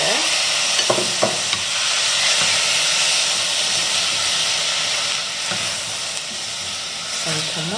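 Tomatoes tossed into a hot pan of browning ingredients for a fresh chilli sauce, a continuous loud sizzle and hiss with steady stirring scrapes and a few clacks of the utensil, close by and without talk.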